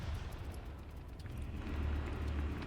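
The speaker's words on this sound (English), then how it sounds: "Airstrikes going down." Deep rumbling blasts from airstrikes in the Arma 3 military game, a low continuous booming roll that swells louder toward the end, with no clear separate impacts.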